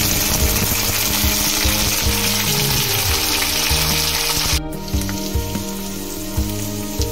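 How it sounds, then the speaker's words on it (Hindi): Beans, carrots and potatoes frying in a pan, a loud, steady close sizzle with occasional stirring scrapes, easing slightly partway through as the frying settles. "मैंने बीन, गाजर, आलू जो थोड़ा सा गलने में टाइम लगाते हैं उसे मैं पहले फ्राई करूंगी।"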